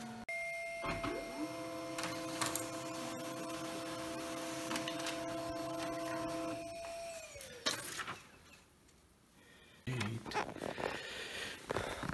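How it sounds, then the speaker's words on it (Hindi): An HP printer runs a test page, its steady mechanical whir holding from about one to seven seconds and ending in a sliding pitch drop. Scattered clicks and shuffles come before and after, with a brief lull near the end. "इस पे भी हम करेंगे इसको कनेक्ट करके एक प्रिंट टेस्ट।"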